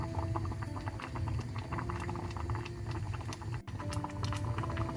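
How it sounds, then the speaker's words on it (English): Maharashtrian daal (varan) made without oil boils in a pot over a medium-high gas flame, giving a close, steady bubbling patter with dense small pops and a low simmering rumble. "Now it started boiling."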